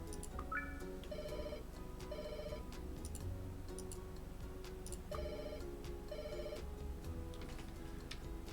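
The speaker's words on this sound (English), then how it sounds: "And the phone is ringing." A telephone rings inside a hotel lobby with repeated electronic ringtone bursts in a steady pattern, moderately loud over a faint background hum.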